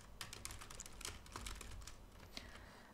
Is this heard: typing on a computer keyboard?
yes